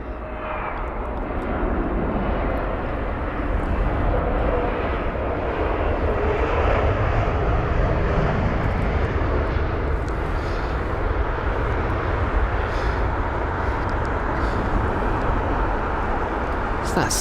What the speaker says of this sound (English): There's a Scandinavian 320neo from Copenhagen